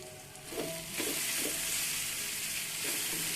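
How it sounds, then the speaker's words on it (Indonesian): Seasonings with sugar, salt and mushroom stock sizzle steadily in a hot frying pan while being stirred, with a few soft scraping strokes over a continuous close, loud crackle and no talking. "Lalu ini akan kita aduk-aduk sebentar supaya bumbunya itu lebih menyatu."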